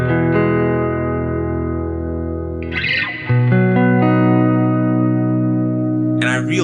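Clean electric guitar tone played through a Fender '57 Champ amp, sustained chords ringing with full harmonics, a short pick noise midway and a brief voice at the end.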